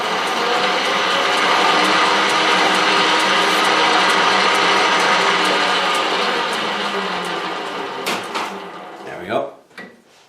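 Hand file breaking the edge of a bushing on a South Bend 13-inch lathe to remove a burr, a steady rasping scrape lasting several seconds before tapering into a few light knocks and handling clatter.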